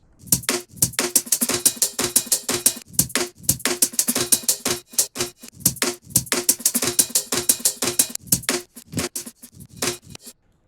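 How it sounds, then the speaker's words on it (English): Crisp percussive hits in a tight, repeating groove, sharp snappy transients with bright cymbal-like tops, playing alone at moderate volume. "I started with this break sample, which sounds like this."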